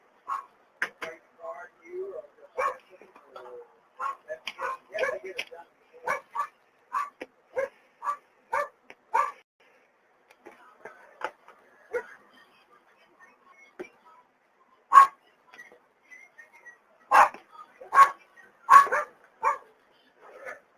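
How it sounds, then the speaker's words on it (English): A dog barks repeatedly in irregular bursts, some louder and sharper than others, with a few whimpers and yips between them in an otherwise quiet room. "And the dog's barking."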